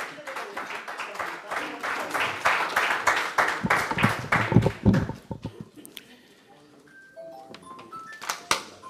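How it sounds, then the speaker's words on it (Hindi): Audience at an evening of poetry recitation in Willesden Green, London, breaking into warm clapping that swells for several seconds and then fades to scattered claps, with faint voices and shuffling underneath. "भरपूर तालियों में"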